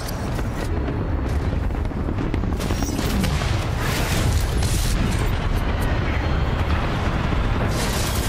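An Ion titan is destroyed in multiplayer Titanfall 2 amid a dense, loud, continuous roar of explosions, booming blasts and rapid gunfire, close and sustained with no clear pause.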